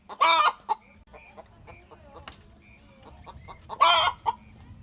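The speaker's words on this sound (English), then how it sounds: "The small chicken coops seem to do well." Chickens in a small coop on a farm project cluck steadily and break into two loud bursts of crowing or squawking, close by, with no talk.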